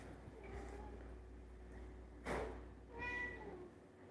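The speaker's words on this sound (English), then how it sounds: "He's a giant cat." A large house cat meows twice, a short sharp call followed by a longer drawn-out one, close and fairly clear over a quiet room with a faint steady hum.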